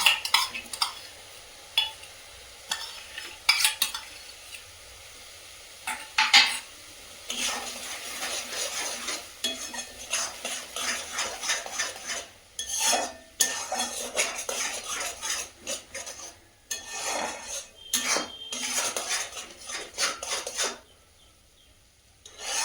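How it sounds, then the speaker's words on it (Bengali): Ground cashew-mustard masala fried in a pan for a prawn and potato curry, with repeated scraping and clanking of a metal spatula against the pan over a low sizzle, bursts of stirring separated by short pauses, no talk. "মশলাটাকে ভালো করে ভেজে নিতে হবে।"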